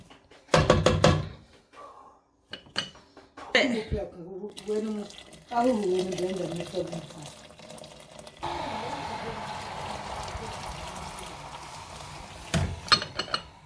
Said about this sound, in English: So I'm going to be adding some hot water, about maybe 5 to 6 cups of water in here.